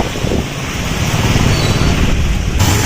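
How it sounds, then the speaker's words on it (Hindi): Heavy rain falls with water rushing and wind buffeting the microphone, a loud continuous broadband roar with no talking. "बारिश की वजह से पानी भर गया और बारिश तेज हो रही है।"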